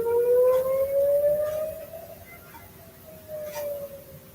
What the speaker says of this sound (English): Those are the Israeli air raid sirens